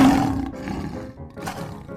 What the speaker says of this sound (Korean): 바라바라가 포효 소리로 엄마 기린을 불렀다.